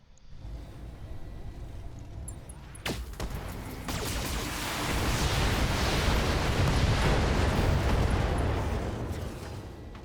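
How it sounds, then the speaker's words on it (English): Heavy mech weapons fire in the BattleTech game, a sharp blast followed by a sustained roaring barrage of explosions that builds and stays loud, with no talking. "All weapons locked on. Firing."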